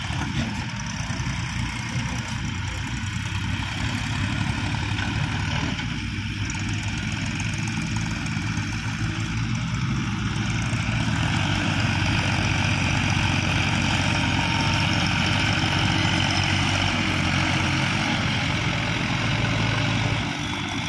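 A gravel-laden tractor's heavy engine drones and labours continuously at close range while a loader pushes it out, with a steady low rumble and no voices.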